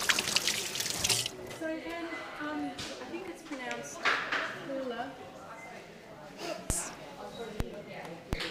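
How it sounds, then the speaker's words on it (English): Tap water runs into a kitchen sink as hands are rinsed after mixing sourdough pizza dough, a steady wash with faint drips and splashes carrying on beneath someone talking throughout. "Just give my hands a quick rinse"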